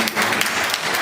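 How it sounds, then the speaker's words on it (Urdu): At a memorial reference gathering, an audience breaks into a brief, dense burst of applause filling the hall. "تو اس کردار والے کے لیے بھرپور تالیاں ہونی چاہیے."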